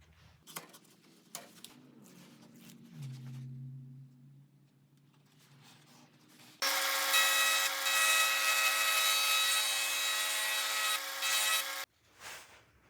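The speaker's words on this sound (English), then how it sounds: "use my safety planer, and get the angle" A safety planer spins up on a maple piece during a mandolin neck repair, first quiet handling and a motor winding up, then a loud steady high cutting whine for about five seconds before stopping.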